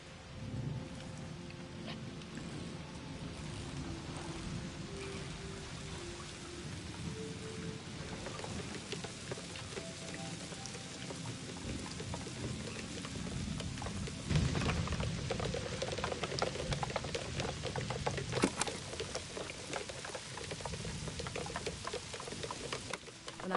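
Steady rain falling in the video game Season: A Letter to the Future, a soft continuous hiss of drops with low rumbling underneath, growing somewhat denser midway, with no talking.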